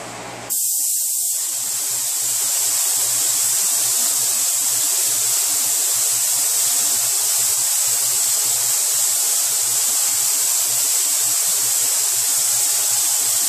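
Spray gun laying sealer onto the hood of a 2005 Chevrolet Tahoe during refinishing, a loud, continuous close-up hiss that starts abruptly and holds steady throughout with no voices.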